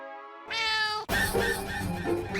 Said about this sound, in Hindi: तो बिल्ली की आवाज कहाँ से है?